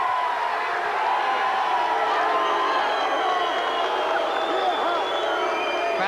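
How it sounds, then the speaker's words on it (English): A large crowd at a 1996 Extreme Fighting 3 event roars and shouts in displeasure, a dense continuous wall of voices filling the arena at steady loudness throughout. "Crowd's not happy."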